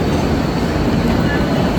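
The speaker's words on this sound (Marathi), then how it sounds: "निघाली ट्रेन." A Bhayandar local train pulls out of Andheri station in Mumbai with a loud, steady rumble of wheels and carriages, a dense roar filling the platform.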